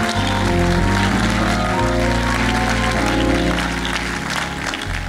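Applause from a church conference audience, dense sustained clapping at full level throughout, with a low musical tone beneath it.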